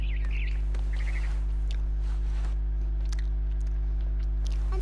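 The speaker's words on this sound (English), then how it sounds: "Then I heard chirping outside my window. It was a barn swallow going back to her nest." A barn swallow chirping outside a window: a few faint, quick chirps early on over a constant low hum, then scattered soft clicks.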